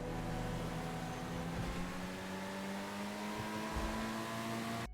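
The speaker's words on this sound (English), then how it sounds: "Going around corners is easy, it drives like a rally car, crazy downforce, but still goes very quick." A car engine in GTA 5 Online, a steady droning hum with shifting harmonic pitch as the car drives and corners, continuous and fairly quiet with no talk.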